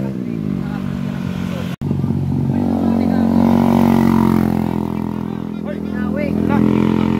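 A motorcycle engine passes on a road, loud and close with a sustained drone that rises in pitch, under excited talk.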